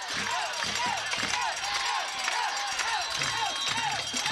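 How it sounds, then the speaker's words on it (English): A high school football crowd cheers and roars steadily at a 4th-and-2 play between Nelsonville-York and Wellston, broad dense noise with faint whistles over it, loud and continuous throughout. "Buckeye crowd on their feet on a 4th and 2 situation at the Wellston 20."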